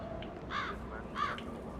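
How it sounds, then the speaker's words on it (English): Crow-like cawing from a bird in the video game Hitman 3, two short harsh calls about half a second apart, moderately loud over steady ambient game background. "There's a cute bird."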